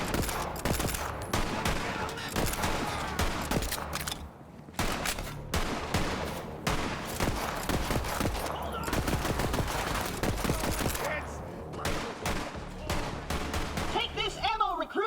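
Enemies shoot at the player in Borderlands 3: dense, steady machine-gun style bursts come in loud and nearly nonstop, with a few short gaps. Talk is mixed in with the shots.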